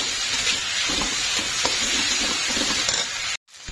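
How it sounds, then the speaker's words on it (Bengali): Onions with salt, turmeric and 3 to 4 chillies sizzle loudly in a pan, a dense, close frying hiss with light stirring, cutting off abruptly near the end. "এটাকে ভালো করে যতক্ষণ না পেঁয়াজটা পুরোপুরি কালার চেঞ্জ করে ভালো করে কষাবো"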